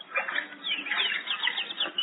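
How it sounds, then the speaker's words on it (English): Old-time radio sound effect of birds splashing and fluttering in a bird bath on a front lawn on a morning in Beverly Hills, a continuous soft flapping and splashing patter heard alone at moderate level. "outside on the front lawn, we hear the splashing of birds in the bird bath"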